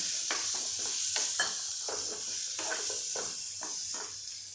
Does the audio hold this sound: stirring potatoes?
yes